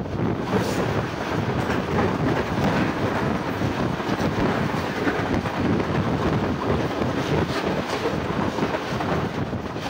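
The Musa Pak Express passenger train runs on rails near Raiwind Junction, giving a constant loud rumbling roar with rattling wheels and rushing wind that lasts throughout, with no talk.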